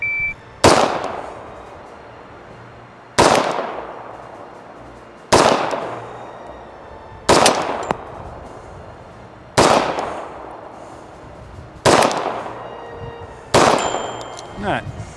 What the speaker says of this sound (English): We'll go 1911 first, but should we do it historically accurate and shoot it one-handed?